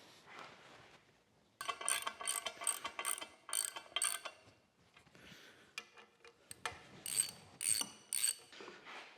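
Bolt being threaded into the table plate of a Sellers 6G drill grinder: quiet clicking and ratcheting in short bursts with pauses between them, close by and without speech.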